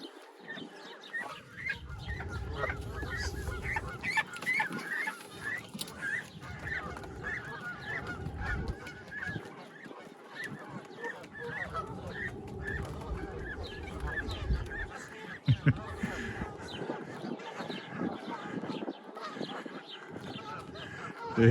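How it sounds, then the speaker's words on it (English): Geese honk repeatedly and cluck around a lake with a footbridge and waterfall on a summer walk, a busy, fairly close flock calling over outdoor background noise. "Geese everywhere."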